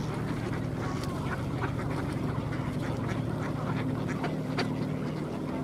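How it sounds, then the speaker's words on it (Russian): Ducks quack in scattered short calls over a steady low background rumble on a frosty winter day at Tsarskoye Selo, fairly faint and distant. "Вот так утки в мороз проводят время."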